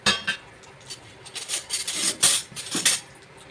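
Cashews and almonds stirred and roasting in ghee in a pan, with soft scraping and rasping strokes and occasional light clinks of a spoon coming in irregular bursts, fairly quiet and close.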